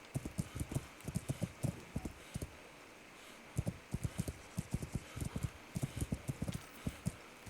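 Horse hooves clip-clop at a steady walking pace through brush in Kingdom Come: Deliverance, a medieval game, the regular thuds close and moderately loud over a soft rustling background.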